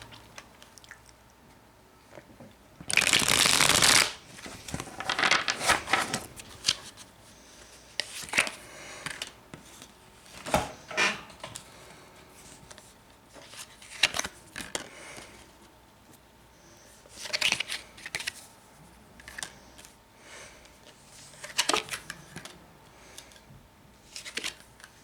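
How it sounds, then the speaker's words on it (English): Tarot cards riffled and shuffled by hand, a loud burst of riffling early on followed by softer intermittent shuffles, taps and card handling in a quiet room. "I'll do one more shuffle here, and we'll pull the cards out"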